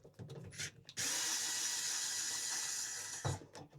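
A HOTO PixelDrive cordless two-speed electric screwdriver backs a factory-tight screw out of a deck case, a steady whirring motor run of a couple of seconds framed by short clicks and handling noises, close up.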